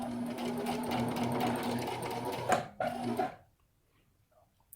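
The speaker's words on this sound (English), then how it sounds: "do a straight stitch as a lock stitch. I'm doing that 4 millimeters from the edge of the fabric." Sewing machine running a straight lock stitch 4 millimeters from the edge of a tablecloth fabric, a fast, close, steady mechanical whir that pauses briefly, runs again for a short burst, then stops into near silence.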